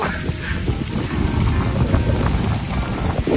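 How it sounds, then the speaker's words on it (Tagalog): Heavy rain and strong wind buffet a cyclist riding through Mapanuepe, Zambales, a dense, continuous roar of downpour and wind noise on the microphone, loud and steady with no voices. "Taas ang lakas ng ulan guys."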